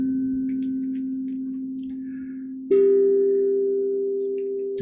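Meditation tones hold as a steady, pure electronic hum. The pitch steps up slightly partway through and then sustains, with faint high chirps scattered above.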